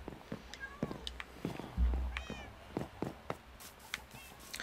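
Cats in the video game Terraria meow repeatedly in short, rising chirpy calls scattered across the scene, moderately loud, with a few clicks and someone speaking in between.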